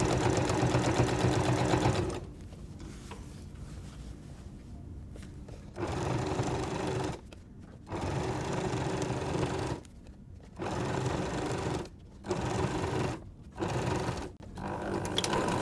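Sewing machine stitching fabric for a plus-sign patchwork quilt: close, steady mechanical whirring in several bursts of a second or more, broken by short pauses as the stitching stops and restarts, with no talk.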